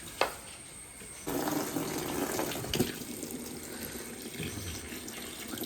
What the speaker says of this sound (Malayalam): ഉള്ളിൽ വെള്ളം നിറയ്ക്കാൻ പോവുകയാണ്